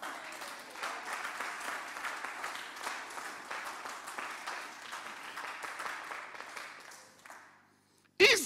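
A church congregation claps and cheers for the Lord, a dense, steady wave of applause that holds for about seven seconds before fading, followed by a sudden loud burst at the end.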